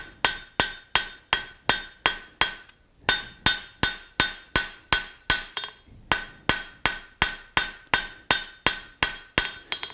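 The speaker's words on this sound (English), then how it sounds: "I'm using a much smaller hammer here. This is about a 3/4 pound hammer." A 3/4 pound hammer strikes hot metal on an anvil with light, evenly spaced blows in quick bursts, each sharp ring decaying briefly, close and clear with no talking.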